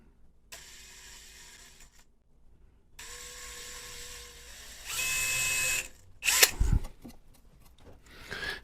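A small drill bores fine holes in a Victorian card table during restoration, heard as short whirring bursts with pauses, followed by a few scraping and knocking sounds.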